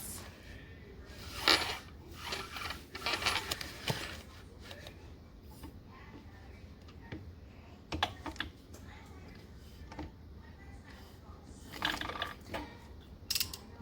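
A sewing machine stitches around a curved fabric flap at a quarter-inch seam allowance with topstitch thread, sounding as short, whirring bursts of running needle separated by pauses, fairly close and moderately loud.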